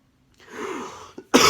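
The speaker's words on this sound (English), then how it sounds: "I have been coughing" A person with a cold coughs once or twice at close range, a short rough burst followed by a sharper second cough, with no talking.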